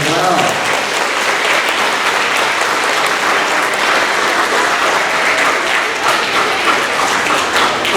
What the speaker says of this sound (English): can we give a round of applause to your parents as well?